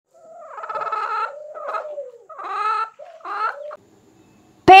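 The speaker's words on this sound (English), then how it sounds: "What sound does a hen make?" A hen clucks in a series of nasal, rising calls in short bursts, close and clear with no talk, ending in a sudden loud clip at the very end.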